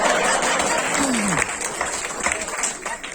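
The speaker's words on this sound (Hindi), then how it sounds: "केवल उन बेचारों ने तालियां बजाई है जिनकी बनी हुई है।" Audience at a Hindi comic poetry gathering breaking into loud clapping that tapers off, with a voice speaking over the applause.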